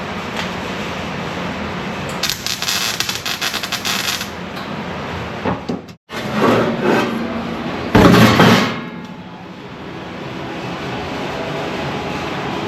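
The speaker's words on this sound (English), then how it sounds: "Because I was using a clamp for a hammer." Metal sheet being struck with a clamp used as a hammer while fabricating a transmission tunnel for a Turbo 400 in a hot rod truck; a quick run of sharp, clattering taps, then a pause and another loud burst of blows.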